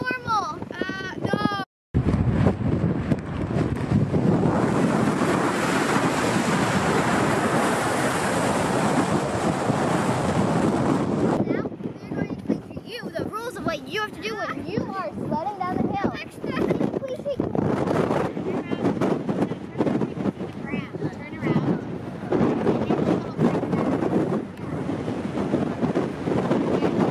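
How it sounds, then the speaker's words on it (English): Strong wind on a volcano roars and buffets the microphone continuously, loud and close, with gusty rushing noise throughout. "And it's super windy."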